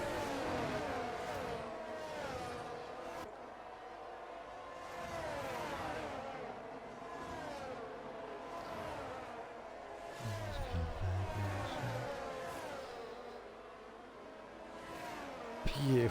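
Race cars in an F1 video game sweep past with rising and falling engine whines, one after another, under commentary.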